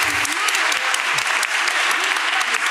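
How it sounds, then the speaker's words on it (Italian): An audience applauds author Jón Kalman Stefánsson at an Italian literary event, a thick continuous round of clapping from many people, close and loud, with faint voices underneath. "ancora un applauso per Jon Kalman Stefansson."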